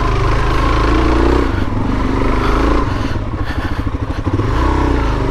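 A Suzuki DRZ400S dual-sport motorcycle engine drones and surges close by while riding off-road, with throttle fluctuating and some rattling clatter throughout.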